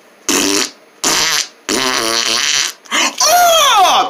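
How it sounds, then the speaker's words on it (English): A cartoon-style sequence of loud, close fart sounds: four separate blasts, the last one long with a rising squeaky tone. "I passed gas. I pooted. I farted."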